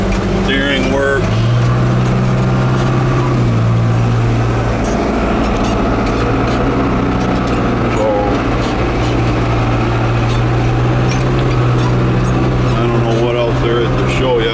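A 1990 Case 410c backhoe drives across a field in fourth gear, its engine running steadily with a loud, continuous low rumble the whole way and no break.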